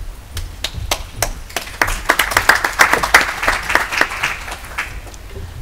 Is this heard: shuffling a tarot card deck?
no